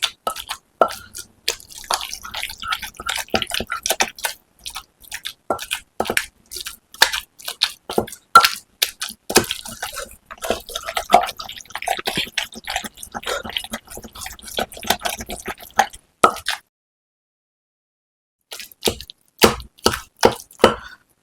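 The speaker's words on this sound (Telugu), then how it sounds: "అది స్లోగా ఇలా రుబ్బుకుంటూ దంచుకోవాలి" A tomato is slowly pounded in a mortar, giving a close, steady run of soft wet thuds and squishy knocks, with a brief pause near the end before the pounding resumes.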